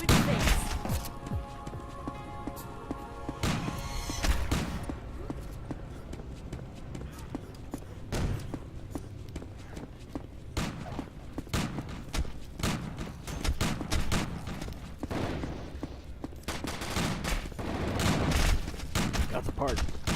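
Bursts of gunfire in Zombie Panic! Source crack out in rapid, irregular volleys, some single shots and some quick strings, loud and close, while players talk excitedly over them.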